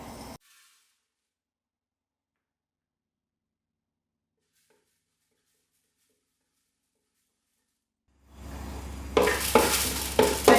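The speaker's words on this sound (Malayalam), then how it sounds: "ശേഷം നമ്മൾ എടുത്ത് വെച്ചിരിക്കുന്ന പരിപ്പ് നമുക്ക് വറുത്തെടുക്കാം." Lentils being dry roasted in a large uruli pan: a long silence, then loud, close scraping and rattling stirring bursts with a low background rumble.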